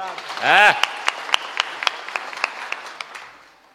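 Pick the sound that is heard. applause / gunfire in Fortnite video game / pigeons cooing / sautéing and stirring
applause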